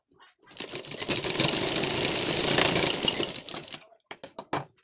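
Sewing machine stitching a lined blouse, a fast continuous mechanical whirr for a few seconds, then stopping into a handful of separate clicks and taps.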